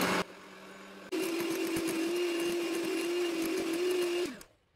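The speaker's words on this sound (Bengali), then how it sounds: "চিনিটা দিয়ে আমি আবারও বিট করে নিচ্ছি।" An electric mixer beats egg whites with powdered sugar for a vanilla sponge cake, whirring in a steady, loud, continuous drone that starts abruptly after a brief lower hum and then winds down at the end.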